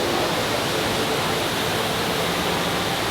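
The huge indoor waterfall at Jewel Changi Airport roars in a dense, unbroken rush of falling water, loud and steady with no talk.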